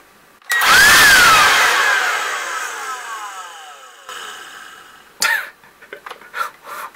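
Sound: SnapFresh cordless rechargeable blower running

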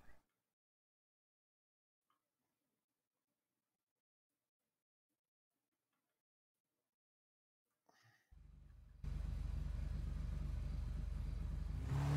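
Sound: motorcycle engine in a video game

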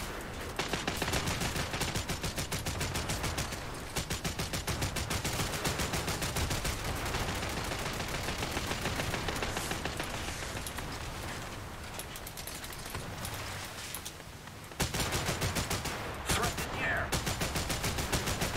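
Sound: machine gun fire from boat in video game War Thunder

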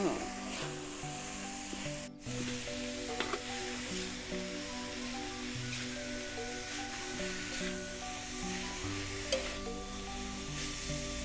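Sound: boiled bamboo shoots sizzling as they are stir-fried

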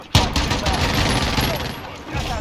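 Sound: airstrike gunfire and explosions in a video game

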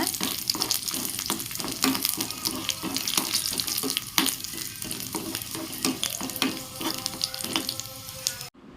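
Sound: garlic and dried red chilies sautéing in a pan

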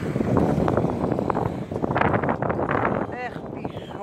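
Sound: wind blowing outdoors

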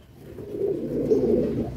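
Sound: Madrasi pigeon cooing

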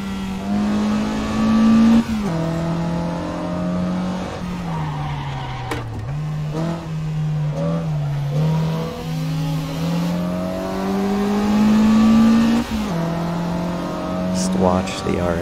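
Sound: Mazda RX-7 race car engine in video game Assetto Corsa

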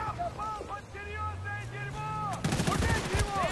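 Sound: gunshots in video game Bad Company 2 multiplayer

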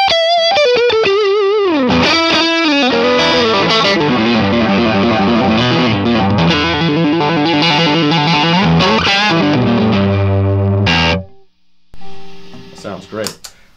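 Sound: overdriven electric guitar with Mojotone Quiet Coil Strat pickup

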